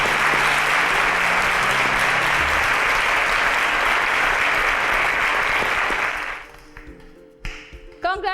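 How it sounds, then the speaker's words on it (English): Dense audience applause at a competition show, loud and sustained for about six seconds before fading into scattered claps and a few voices. "A round of applause for them, please."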